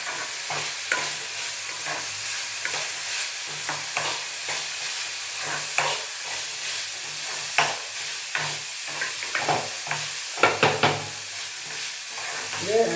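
Peanuts and lentils roast in a pan for chutney, stirred repeatedly so a spoon scrapes and rattles in irregular bursts over a soft, steady sizzle, close and clear with no talking.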